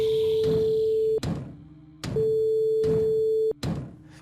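An electronic ringing tone sounds in steady bursts, a sustained pitched tone cutting on and off with short gaps, fairly loud and close, with no voices.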